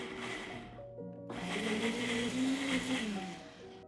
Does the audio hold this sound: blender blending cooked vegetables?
yes